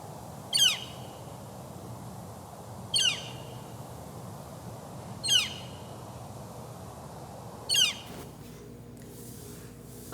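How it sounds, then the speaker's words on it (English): A small bird on top of an outdoor post gives four sharp, loud squawking calls at even intervals of about two seconds, each a brief descending burst standing out clearly over steady background noise. "there's a bird on top of the post."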